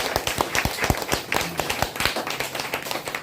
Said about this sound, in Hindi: तो एक बार राजीव सर के लिए जोरदार ताली